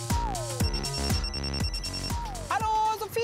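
A phone rings with an incoming call, a repeating electronic ringtone melody of bright, bell-like notes, loud and close, with no voices over it.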